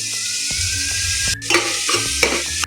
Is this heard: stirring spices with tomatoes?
yes